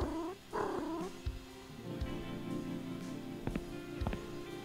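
A cat purrs in the point-and-click adventure game Randal's Monday, a steady close rumble with a few brief tonal game sounds layered over it, no talking.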